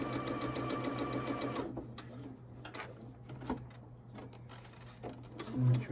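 A sewing machine stitches a quilt seam, giving a steady close mechanical whir with rapid needle ticks for the first couple of seconds. Then come quieter handling noises and fabric shuffling as the quilt is repositioned.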